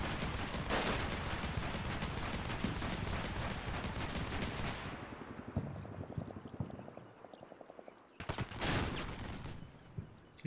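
Dense small arms gunfire crackles continuously in a combat game battle around a building, then thins to scattered bursts and rapid rattling shots before a final loud volley.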